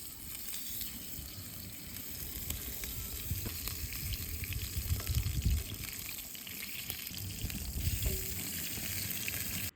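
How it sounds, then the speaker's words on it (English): Brook trout fillet, seasoned and oiled, sizzles and crackles in a pan on a camp stove outdoors, a steady close frying hiss with small pops and occasional stirring, no voices. "Let's fry it."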